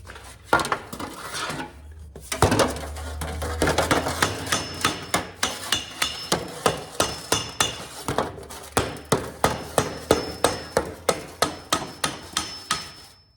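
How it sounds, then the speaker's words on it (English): A hammer strikes a piece of heated scrap metal to flatten it, landing a long run of sharp, evenly spaced metallic blows at close range with a steady working rhythm after a few scattered opening hits. "So I'm gonna take this piece and hammer it flat"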